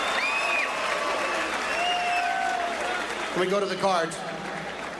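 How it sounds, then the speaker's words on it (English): Boxing arena crowd applauding the fighters after a championship bout, a broad roar of clapping under a nearby voice talking, with the cheering easing slightly toward the end. "Give both of these fighters a tremendous round of applause."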